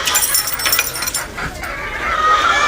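Chickens cluck inside a poultry farm for laying hens, a busy, close chorus of short clucks and squawks over a dense hen-house din.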